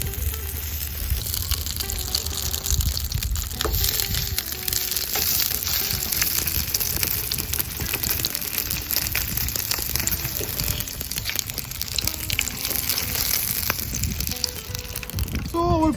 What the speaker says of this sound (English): So our sausages are in. I'm gonna put low flame to see how it is.